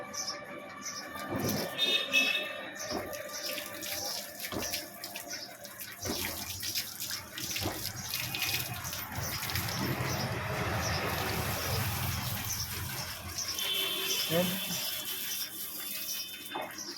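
Tap water runs steadily into a tub while a dog is bathed with shampoo, a soft continuous splashing flow with small clatters, and people talk quietly now and then.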